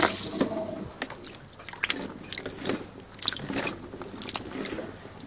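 Blackberries rinsed in water before being made into jam, with soft splashing, dripping and squishing of wet fruit in a sink, intermittent and close.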